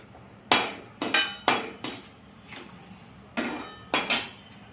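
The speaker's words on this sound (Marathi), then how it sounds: "आता आपण बडीशोप काळी मिरी लवंग दालचिनी एकत्रच भाजत आहोत" Fennel seeds, black pepper, cloves and cinnamon dry-roasting in a pan, heard as a series of sharp metallic clinks and knocks from a utensil striking the pan, spaced irregularly and fairly close.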